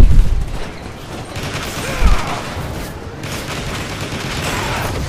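Gunfire from a weapon in the Transformers: War for Cybertron video game rattles in dense, continuous bursts, loud and close, with mechanical game effects in the background.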